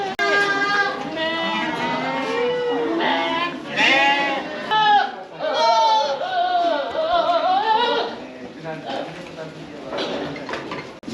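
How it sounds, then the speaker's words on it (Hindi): Goats and sheep on a goat farm in Nashik bleat loudly and almost nonstop, with several animals overlapping nearby in a dense, wavering chorus. "गोट के साथ में आप यहाँ पे भेड़ भी देख सकते हो,"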